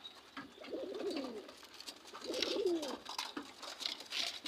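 Pigeons feeding on corn give two soft, rolling coos a second or so apart, faint against a quiet background hiss.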